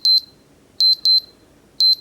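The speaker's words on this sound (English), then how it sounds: "The beeper here has got some power to it." The alarm beeper of a Casio HOTBIZ VDB-3000 calculator sounds in short, loud bursts of piercing high beeps, grouped in twos and fours with brief gaps between, close and alone.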